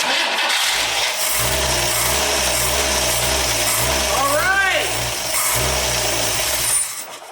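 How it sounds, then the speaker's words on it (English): A 1962 AMC Rambler engine, abandoned and under repair, cranks and catches, then runs with a rough low rumble. Rising and falling revs are heard at close range before it settles, loud against faint background voices. "Let's fire it up again and see if we can rev her up a little bit."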